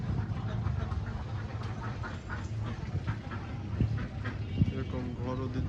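A flock of Khaki Campbell ducks at a farm is being fed, with soft quacks and feeding noises scattered through a steady low rumble of background activity, fairly faint.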